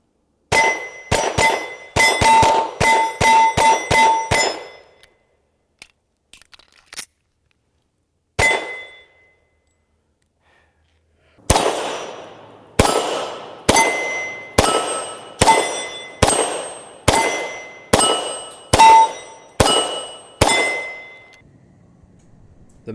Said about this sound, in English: So now that we have this mag loaded up, then it's time to get to shooting some steel.